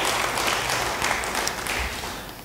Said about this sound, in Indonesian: Yang merasa suka, beri tepuk tangan buat dia